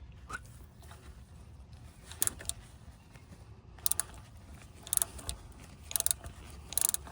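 Oil filter wrench turning counterclockwise on the oil filter of a 2025 Lexus NX250, a quiet series of ratcheting clicks in short bursts over a faint background hum.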